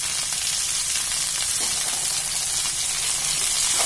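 Pointed gourd and ivy gourd frying in a pan give a loud, steady hissing sizzle that holds evenly throughout, close up with no voices.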